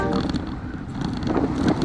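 Steady broadband wind rush buffets the microphone throughout on a windy group bicycle ride through open countryside near Shiro, Texas, loud and constant with gusty swells and no talk.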